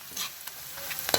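Garlic and a little cabbage sauté in a hot pan, a short burst of sizzling broken by quick stirring scrapes that grow louder toward the end.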